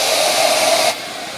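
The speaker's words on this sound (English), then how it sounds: "I'm going to step off to the side here so we don't get too much router noise in the mic." A handheld router cuts through eighth-inch-thick material for an inlay and marquetry project, giving a steady, loud high-pitched whine with broadband hiss that stops abruptly partway through, leaving quieter motor hum.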